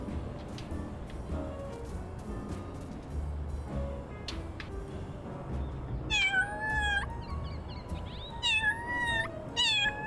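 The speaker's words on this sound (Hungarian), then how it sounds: "Kinyávogjuk magunkat, de nem nyitja ki az ajtót." In the video game Little Kitty, Big City, a cat meows repeatedly at a door, a run of four insistent, close meows in the later half after a stretch of quiet ambient background.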